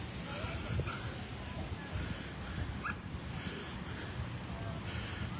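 At an outdoor county show's dog training area, a dog gives a few faint yips and whimpers, fairly distant, under the murmur of a crowd and people talking nearby.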